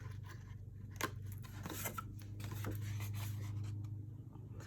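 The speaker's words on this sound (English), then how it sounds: "And I'm cutting out the corners." Scissors snip and scrape through paper while cutting out the corners of a paper gift pouch, close and fairly quiet, with a steady low hum underneath.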